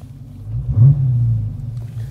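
A 2016 Dodge Challenger R/T Scat Pack V8 gives one short rev that swells and settles into a deep, steady rumble, close and loud with no talk.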